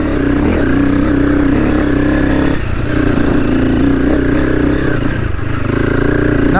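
A Honda CRF300 motorcycle with a Stage 4 setup lugs along at low RPM, its loud, close engine chugging steadily with a rough, clattery drone throughout.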